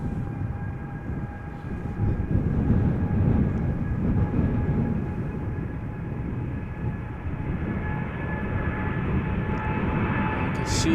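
An Air Europa Boeing 787-9 Dreamliner bound for Madrid takes off from Amsterdam Schiphol, a steady low engine rumble with faint high tonal whines, held at moderate distance with no talk.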